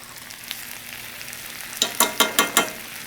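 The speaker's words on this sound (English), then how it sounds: "We want to add this little garlic now." Jarred minced garlic, about a teaspoon, sizzles in a hot pan for a Cajun stir fry: a steady soft hiss, then five quick, evenly spaced bursts of louder sizzling and scraping as it is stirred.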